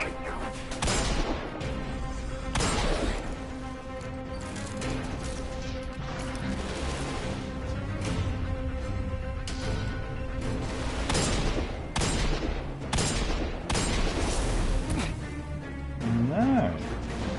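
Loud, repeated cannon blasts and crashing impacts fill a Destiny 2 firefight, a dense barrage of booms recurring every second or two, with game noise continuing between them.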